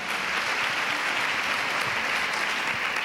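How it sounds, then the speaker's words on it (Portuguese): A talk show audience claps steadily and densely for about three seconds, a full, even wash of applause with no pauses. "merece umas palmas, não é isso?"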